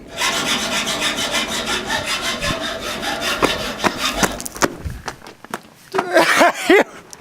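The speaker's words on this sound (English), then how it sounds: "you're over here sawing bolts" Bolts are sawn by hand in fast, steady back-and-forth rasping strokes up close, then the strokes slow and break up into scattered clanks and scrapes with a brief voice near the end.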